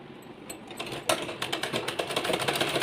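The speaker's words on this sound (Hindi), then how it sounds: "अब हम इसकी यहाँ वाली साइड को सिलाई लगाएंगे, अंदरले वाली साइड।" A domestic sewing machine stitches along the edge of buckram fabric for a wide neckline design at medium stitch length, a fast mechanical rattle building from soft to steady, fairly close.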